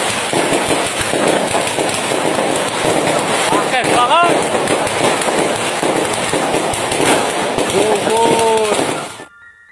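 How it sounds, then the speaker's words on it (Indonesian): Firecrackers set off outdoors on Takbiran night, a dense, loud barrage of crackling pops running continuously with whistling and distant shouting voices mixed in, ending abruptly. "Salah satu pengguna TikTok yang bernama Novi mengunggah video aktivitas bermain petasan saat malam takbiran"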